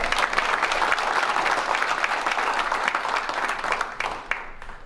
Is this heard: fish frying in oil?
no